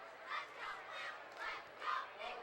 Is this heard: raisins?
no